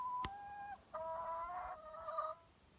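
Chickens cluck and squawk nearby in a coop in a few drawn-out, wavering calls, one sharp click at the start, fairly quiet with no talking.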